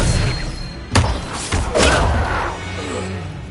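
Expelliarmus spell cast in the Hogwarts Legacy video game: a sharp magical crack followed by a couple of whooshing bursts and thuds over rumbling background, no speech heard.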